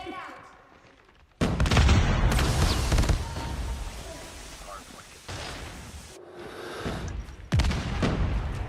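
A heavy blast erupts and rolls into dense, sustained gunfire and booming in a competitive shooter match from the African Pro Series, loud and chaotic, with a second sharp burst near the end.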